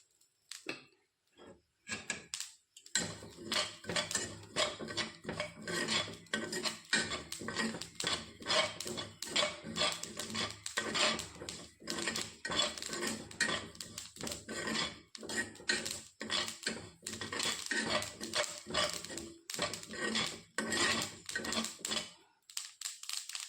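Niger seeds crackle and scrape in a hot iron pan while being sautéed, with dense rattling and sizzling and a metal utensil stirring, steady and close for a long stretch.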